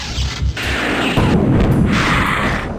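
Pain Elementals bursting under BFG fire in Doom II, a loud continuous barrage of overlapping booming explosions with no pauses, heard alone without talk.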